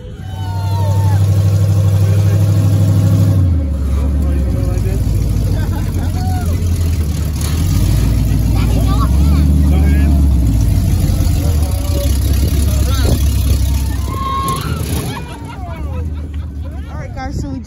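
Monster truck engines rumble and rev at a boardwalk show in Cape May. Deep, throaty engine tones rise and fall in surges over a background of crowd chatter.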